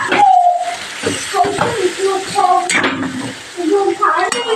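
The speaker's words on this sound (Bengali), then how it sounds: "আবার আমি পরোটাটা একটু উল্টে দিচ্ছি।" A paratha fries in oil in a pan and is flipped, giving a loud sizzle with scraping and clattering from the turning utensil, while a person talks over the cooking.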